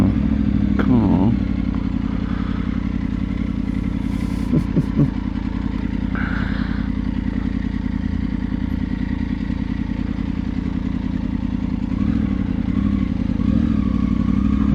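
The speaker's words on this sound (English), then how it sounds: "Motorcycle," A motorcycle rides along with a steady engine drone, rising briefly in a few short revs and clattering bursts, heard up close with no talking.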